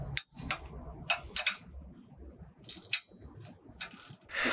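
Ratchet wrench clicks as ring gear bolts are tightened on a Dana 44 axle carrier clamped in a shop press, giving short, close, quiet bursts of rapid ratcheting separated by brief pauses.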